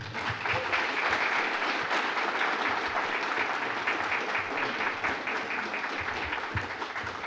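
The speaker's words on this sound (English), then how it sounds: "So please join me in a round of applause for Mr. B.J. Hollers." A seated audience gives a round of applause to welcome a guest speaker. Loud, sustained clapping runs about seven seconds and tapers slightly near the end.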